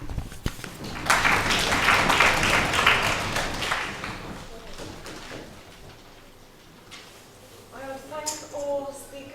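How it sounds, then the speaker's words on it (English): An audience applauds at the final of the Skopje Open 2015 debate tournament, with a burst of clapping that swells for a few seconds and then dies away before talk resumes. "We'll give them a round of applause."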